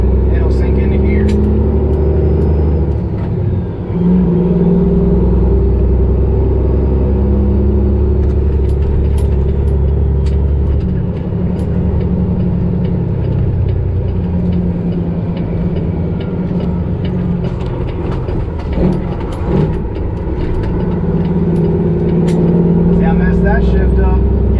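A semi truck engine held up around 1600 RPM while the driver floats gears: a loud, steady, deep diesel drone runs the whole time with slight rises and falls in pitch, and someone talks over it.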